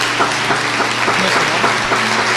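Applause from a church congregation honouring a woman who has just confessed, a steady wash of many hands clapping at once, continuous and fairly loud throughout with no talk over it.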